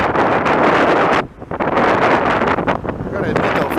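Strong wind buffets the microphone on a windy afternoon beside railway tracks where CP trains cross in Montreal, a loud continuous roar with one brief lull, while someone talks over it.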